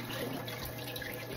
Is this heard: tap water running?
yes